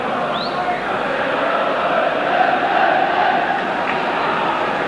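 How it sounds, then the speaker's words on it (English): Roaring crowd of about 32,000 at a 1989-90 Leeds United versus West Ham football match, a steady broad wash of voices and cheering that swells slightly midway, with no commentary over it. "The crowd really an excellent voice for the start of this game."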